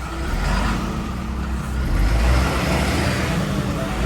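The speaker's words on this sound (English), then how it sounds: "Nice, beautiful sounding engine." A MAN TGM 18.250 truck engine runs steadily and loudly with a deep low rumble, swelling slightly as it pulls forward before easing back.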